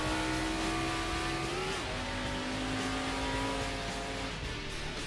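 A race car laps Road America in the Assetto Corsa driving sim, its engine a loud, continuous high drone that drops briefly at a gear change early on, then holds steady with no talking.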